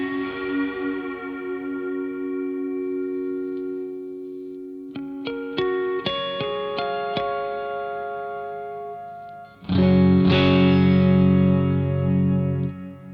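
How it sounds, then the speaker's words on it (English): Sustained guitar notes and chords wash through a Strymon NightSky reverb pedal with mild sine-wave modulation, layered tones ringing and overlapping, then a louder, denser chord swells near the end; no talking. "that's kind of your modulation setting, and you can get really, really creative there"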